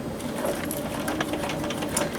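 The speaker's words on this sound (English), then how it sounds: "now we're going to sew a 3/8 inch seam along here." Sewing machine stitching a 3/8 inch seam on a flat-bottomed tote bag, a steady close whirring drone that runs unbroken and fairly loud.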